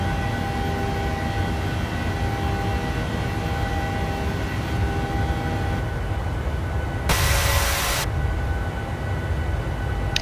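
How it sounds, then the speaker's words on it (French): Light aircraft such as a Cessna with engines running steadily, a thin high-pitched metallic whine from the fuel pumps riding over the broad engine drone, plus a brief louder burst of hiss partway through. "C'est le bruit des fuel pompes."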